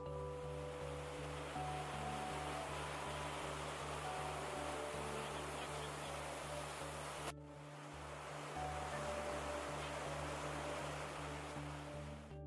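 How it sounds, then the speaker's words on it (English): Hot water dispersed through thousands of spray nozzles inside a power plant cooling tower at Brayton Point in Somerset, Massachusetts, heard as a dense, steady roar like heavy rain or surf, with a constant low hum beneath and a brief dip midway. "That sound you heard was the sound of water being dispersed across thousands of spray nozzles,"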